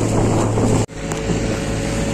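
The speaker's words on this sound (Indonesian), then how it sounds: "mesin sedut pasir" A sand suction machine by a river in Kemaman, Terengganu drones with a steady low engine rumble and wind buffeting, briefly dipping before resuming, with no talking.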